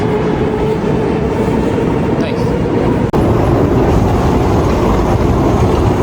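A Moscow subway train runs at Revolutionary Square Station with a steady loud rumble and rattle, and a person speaks briefly over the noise.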